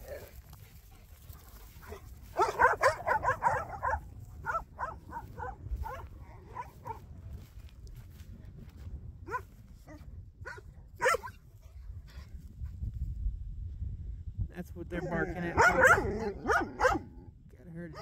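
Several puppies bark in bursts at deer moving nearby, some yips and whimpers mixed in, at moderate distance, with someone talking in between.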